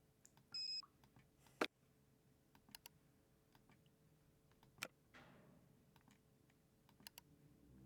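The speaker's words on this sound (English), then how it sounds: "Is that what downloading sounds like in this game?" Short electronic beeps and soft clicks from downloading in the Nancy Drew: Trail of the Twister game, scattered sparsely across a quiet background.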